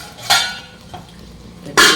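Metal clatters as a plate is set as a lid onto a pot of boiling curry, two sharp clanks separated by a pause with a faint clink between.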